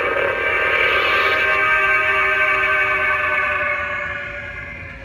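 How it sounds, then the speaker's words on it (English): A lightsaber sound effect plays a train fade-out, a dense steady whooshing tone that holds and then slowly drops away toward the end, heard alone without talk. "This is the train fade out on Run with the Devil."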